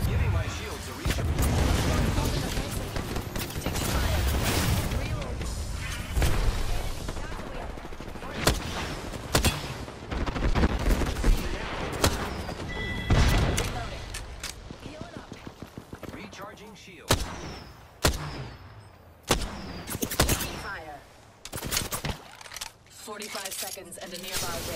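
Apex Legends gunfire during a ranked Season 11 match on Storm Point: sharp bursts and single shots scattered across the stretch, loud and close, with game sounds and voices mixed throughout.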